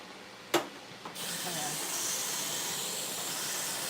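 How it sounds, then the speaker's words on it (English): A kitchen sink tap is turned on after a sharp click, and water streams steadily into the basin for rinsing, a constant close rushing hiss with no talking. "Rinse out the sink a little bit."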